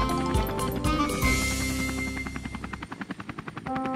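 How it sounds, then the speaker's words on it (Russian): Cartoon helicopter struggling to land in an animated children's show about trucks and robots, a rhythmic rotor chop mixed with musical score, the beat pulsing faster and uneven toward the end. "Роботы, машинки, вертолету пора садиться."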